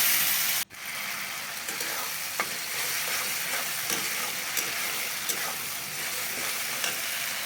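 Lentils poured onto a frying paste of ginger and cumin with chili, bay leaf and dried red chilies: a brief hush, then a steady sizzle with soft, regular stirring scrapes and clicks.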